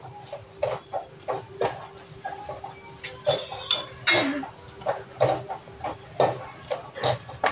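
A spoon stirs coconut ladoo mixture in a pan, with repeated close scraping and clinking strokes in a steady rhythm and no talking.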